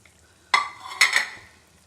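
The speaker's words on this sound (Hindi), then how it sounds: "ये आ गई है अरबी और ये डाल दी है।" Taro root hits hot frying masala in a pan, setting off two sharp, close sizzling bursts about half a second apart, each tapering into a softer hiss, with no talk.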